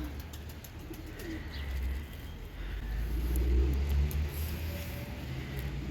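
Tumbler pigeons in a loft, with soft, repeated cooing close by over a low, steady background rumble.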